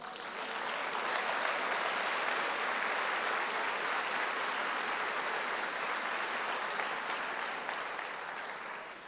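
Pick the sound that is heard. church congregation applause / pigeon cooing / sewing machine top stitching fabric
church congregation applause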